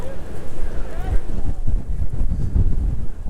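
Wind gusts across a pond by a tree line and berm, buffeting the microphone with a loud, continuous low rumble that surges and eases throughout.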